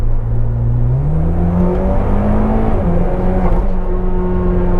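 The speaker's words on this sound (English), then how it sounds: "it revved out to 6, changed into third, and now look, I back off the throttle" A car engine revs up through the gears, its pitch climbing, dropping at each shift and climbing again, then easing as the throttle lifts, loud and close inside the cabin.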